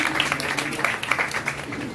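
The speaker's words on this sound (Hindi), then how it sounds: "जोरदार तालियां मेरी सुवाई के लिए" A church congregation at a Sunday meeting claps loudly, a dense, steady patter of many hands sustained throughout, with some voices faintly audible beneath.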